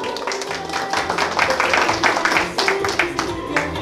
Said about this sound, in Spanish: Fuerte los aplausos para ella, por favor.